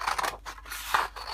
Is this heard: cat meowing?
no